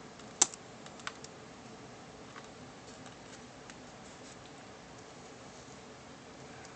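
A computer keyboard used to enter commands on a Backtrack 5 Linux system gives a few faint, sparse keystroke clicks in a quiet room, one sharper click standing out early.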